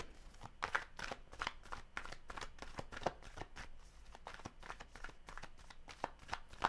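Tarot animal cards are shuffled by hand, close and quiet, in a quick run of papery riffles and flicks with no talking.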